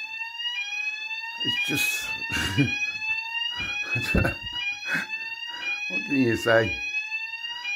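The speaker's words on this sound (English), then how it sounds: "we've got to wait for the fire brigade to come and switch this alarm off" A building fire alarm rings continuously in the early hours, its steady high electronic tones sounding throughout while several people talk over it nearby.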